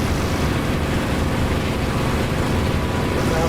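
A combat aircraft's engine in the DCS flight simulator holds a loud, unbroken drone that stays even throughout, with no talking over it.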